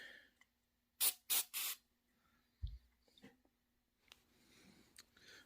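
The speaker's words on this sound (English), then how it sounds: "Brake clean spray." An aerosol can of brake cleaner hisses in three short, sharp bursts while cleaning a Mazda RX-7 clutch master cylinder area, followed by quiet tool handling, a light knock and faint rustling.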